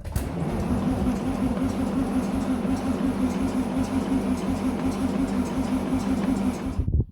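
A tractor engine is cranked on the starter, trying to start. It makes a steady, rhythmic, pulsing churn at close range that runs without catching and then cuts off abruptly, with no talk over it.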